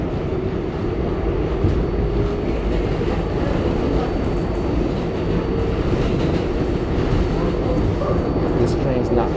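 A New York City 7 subway train rides through Queens, its steady, loud rumble and rattle of wheels and cars filling the whole stretch, with faint voices underneath.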